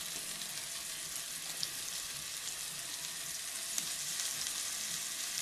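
Meat browning in a pan sizzles with a steady, hissing crackle that stays close and even throughout, with only a few faint clicks from stirring and no voices.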